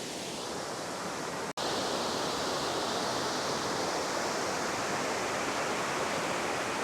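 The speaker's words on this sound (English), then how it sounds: "That is a bunch of water." Loud, dense rushing water pours over a spillway, a constant roar of broadband noise that fills the scene, broken once by a split-second dropout.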